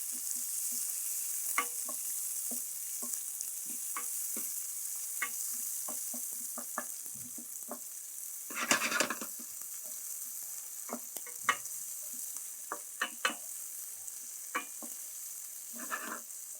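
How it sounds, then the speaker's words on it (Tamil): Onions frying slowly on a low flame, a soft, even high sizzle broken by many light, irregular stirring taps and one brief louder scrape midway, with no one speaking. "இந்த வெங்காயம் வந்து ஸ்லோ ஃபயரில் நீங்கள் குக் பண்ணி எடுத்துக்கோங்க"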